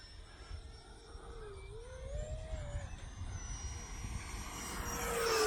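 E-flite Viper 70mm electric ducted-fan RC jet passing overhead on a sunny day at a flying field, a steady rushing whine with a rising-falling pitch sweep that grows louder toward the end as it closes in.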